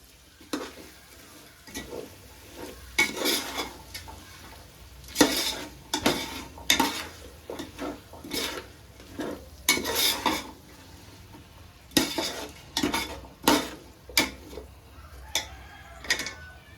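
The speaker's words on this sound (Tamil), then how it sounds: "நம்ம இஞ்சி பூண்டு பேஸ்ட் போட்டோம் இல்லையா, அது லைட்டாக அடிப்பிடிக்குது." Ginger garlic paste frying in a pan for vegetable biryani, stirred with a utensil that scrapes and clinks against the pan in irregular bursts over a soft sizzle, close and fairly loud.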